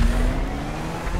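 A flying bike's engine in GTA 5 drones steadily throughout, a low, even motor hum that stays moderately loud with no talk over it.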